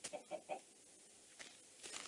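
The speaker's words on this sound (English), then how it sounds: "maybe it was just a chicken" A Minecraft chicken clucks three quick times in a row, followed by a fainter cluck and soft noises, with no talk over it.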